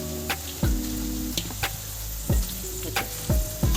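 Bitter gourd pieces roast and crackle in a pan for a Telangana pickle. A spatula scrapes and stirs them in regular strokes, and each pass lands with a sharp knock over a steady sizzle.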